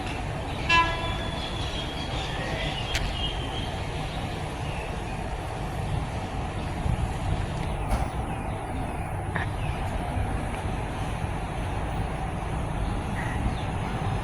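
Ordinary passenger train 201 from Bangkok to Phitsanulok arriving at Tha Ruea station in Thailand, a steady low rumble of railcars rolling in with brief horn toots and metallic squeals, heard from trackside, no talk.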